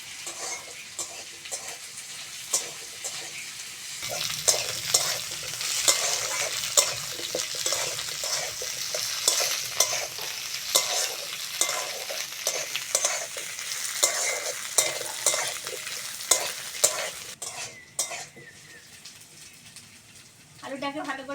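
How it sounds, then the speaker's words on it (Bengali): Potatoes frying and being stirred in a pan for an okra curry, with a steady loud sizzle and repeated scraping stir strokes throughout, a voice speaking briefly over it. "ঢেঁড়সের এই রেসিপিটা করার জন্য আলুটাকে ভালো করে ভেজে নিতে হবে।"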